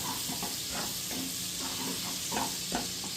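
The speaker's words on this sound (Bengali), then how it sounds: "বাটারটা এবার কড়াইয়ের সঙ্গে পুরো মেল্ট করে নিচ্ছি।" Butter melting in a kadai while making homemade butter chicken, with a soft steady sizzle and hiss under light scraping and stirring taps, close and fairly quiet throughout.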